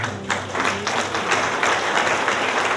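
A church congregation bursts into applause, a dense, close crowd of clapping hands sustained for a few seconds with a murmur of voices beneath.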